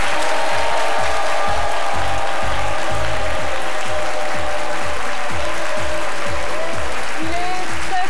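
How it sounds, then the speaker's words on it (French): A television studio audience applauding, a loud continuous patter of many hands with a rhythmic low thumping underneath throughout. "que je vous demande d'applaudir"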